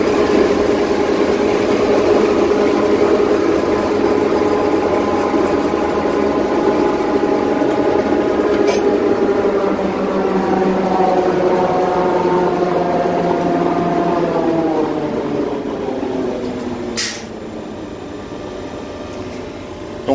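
An SNCF CC72100 diesel locomotive engine idles with a loud, steady droning hum, its pitch sagging and winding down toward the end as the engine slows, heard up close without speech.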